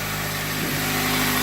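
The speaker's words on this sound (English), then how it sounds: "So right now the car is running on her own." A 2003 Pontiac Vibe engine idles on its own after a throttle body and mass air flow sensor cleaning, giving a steady, close hum with a slight even pulse and no talking.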